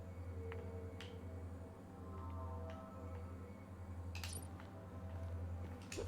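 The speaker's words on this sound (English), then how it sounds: "that good glass noise" Faint, sharp glass clinks ring out from Psychonauts 2 over a steady low hum, with a few scattered chimes and a brighter cluster of clinks near the end.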